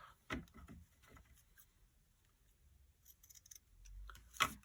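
Scissors snip through paper while a bees-and-daisies journal with pockets and labels is made: a few quiet close cuts, then light handling rustles and another crisp snip at the end.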